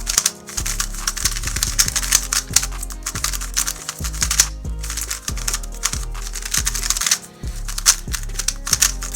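A Moyu WR M 2021 speed cube, new and a bit sticky, is turned rapidly, producing dense rattling plastic clicks in quick irregular bursts, close and crisp, with brief pauses between runs.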